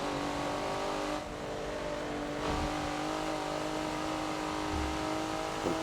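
A race car lapping Road Atlanta in Forza holds a loud, steady engine drone with a short throttle lift midway. The revs pick back up as it powers out of the corner, with no talking.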